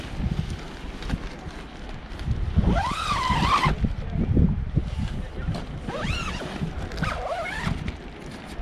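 Zipping closed a Decathlon Arpenaz 4.1 Fresh & Black tent, three or four rasping zipper pulls of a few seconds each, close up over rustling fabric and faint outdoor background noise.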